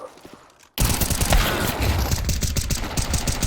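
Gunfire in the video game Counter-Strike 2 erupts suddenly after a moment of quieter play: loud, dense rapid shots crackling in fast repeated bursts that continue to the end.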